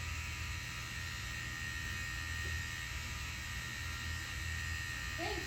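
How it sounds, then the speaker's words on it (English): Electric dog clipper blades buzz steadily close by, a constant thin electric whir with a low hum beneath, fairly quiet, with a faint voice near the end. "that's all that we're going to do with those noisy clipper blades today"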